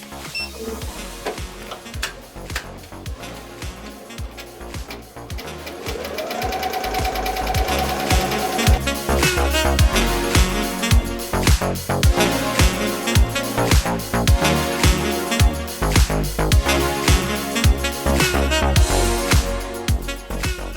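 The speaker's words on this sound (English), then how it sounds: "I'm gonna be rolling at 600 stitches per minute, and then trace." Embroidery machine stitching patches at 600 stitches per minute, a fast steady mechanical chatter of needle strokes that runs loud and continuous, picking up and holding a higher whine partway through.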